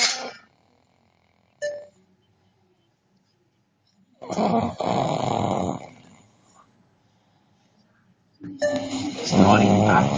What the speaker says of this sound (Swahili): Snoring puppy, snoring puppy,